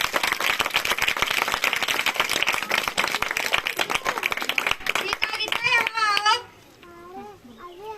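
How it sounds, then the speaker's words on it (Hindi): An audience at a stage play claps steadily for several seconds, then the applause stops and a voice speaks alone. "तालियां।"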